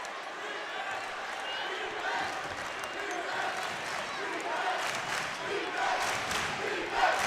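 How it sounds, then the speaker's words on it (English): Basketball crowd at an Eagles versus Bob Jones University game rising into loud cheering during a defensive stand, a dense sustained roar that swells toward the end, with voices mixed in. "Crowd begins to erupt with defense."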